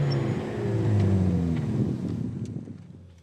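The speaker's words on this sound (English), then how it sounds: "let's see what the Renault Sport Megane Trophy can do" Renault Sport Megane Trophy hot hatch pulling away hard, a loud engine roar that rises in pitch and then fades as the car moves off into the distance, with no talk.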